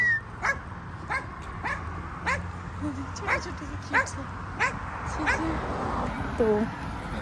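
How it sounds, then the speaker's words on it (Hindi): Dogs bark on a street outside on a summer day in Canada, giving a steady series of short, fairly distant barks at regular intervals against low background noise. "कुत्ते भौंक रहे हैं सड़क में"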